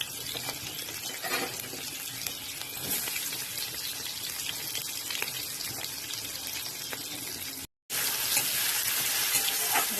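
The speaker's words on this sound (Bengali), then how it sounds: "পেঁয়াজ টমেটো ভেজে নিই" Onions and tomatoes fry in a pan in a home kitchen, giving a dense, close, continuous sizzle with faint stirring, briefly cut off by a moment of silence before resuming.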